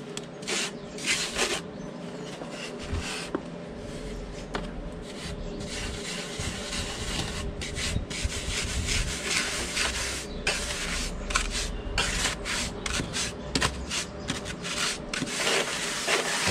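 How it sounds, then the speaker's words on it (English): A float rubs sand and cement render on a window sill in circular motions, giving a repeated gritty scraping and swishing close up with an irregular rhythm of strokes and no voices. "And do clockwise circular motions, taking away any high spots and filling in any low spots."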